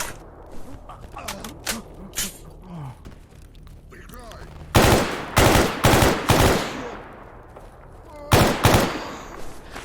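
Rifle gunfire in a video game: scattered lighter game sounds at first, then several loud, close shots and bursts, with a final pair of heavy reports near the end.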